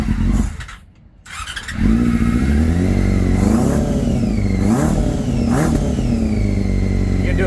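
BMW K75 motorcycle engine, a 2002 bike with a Micron exhaust, fired up and revved: after a brief dip the engine climbs to a loud, close, steady drone with several rising rev sweeps.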